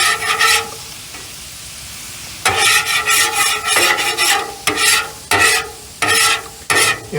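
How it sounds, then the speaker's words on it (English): Metal spatula scraping across a hot griddle while fried rice cooks, with shrimp and chicken on the flat top; a quiet sizzle, then repeated bursts of harsh scraping in an irregular rhythm, close and loud, with no voices. "cooking with a griddle is a lot of scraping here"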